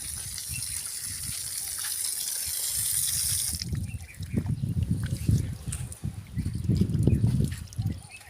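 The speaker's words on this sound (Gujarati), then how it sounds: "પાણી કોઈએ ચાલુ મૂકી દીધું છે." Water gushing and splashing from a tap left running outdoors near a temple grounds, a steady broadband rush that dominates early, then turns to fainter, irregular trickling and spattering with low-pitched thumps.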